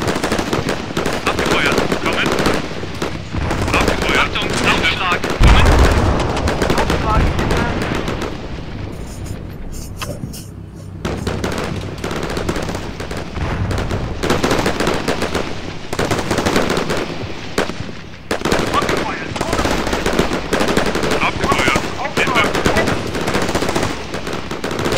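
Machine guns lay down suppressing fire in the war game Combat Mission Shock Force, with loud sustained rattling bursts and heavy booms throughout and a brief lull in the middle.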